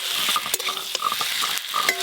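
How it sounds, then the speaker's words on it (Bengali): Fried potatoes tossed into spices sizzling in a pan for a Bengali village dish, with a steady loud frying hiss broken by repeated stirring scrapes and clatters. "এবার ভেজে রাখা আলুগুলো দিয়ে দেবো।"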